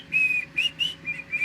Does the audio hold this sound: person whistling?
yes